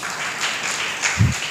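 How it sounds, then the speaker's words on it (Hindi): A church congregation breaks into applause at a Hindi sermon, a brief burst of clapping with one louder low thump near the end. "तालियां, गड़गड़ाहट की तालियां।"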